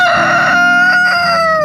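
Chickens in a fall garden bed crow loudly and continuously, a rooster's drawn-out cock-a-doodle-doo ringing close by with clucking hens underneath, no talk.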